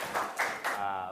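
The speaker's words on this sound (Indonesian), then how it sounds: "Oke, tepuk tangan." A few distinct claps in a classroom teaching session, three sharp hits in quick succession followed by a fading voice-like tone.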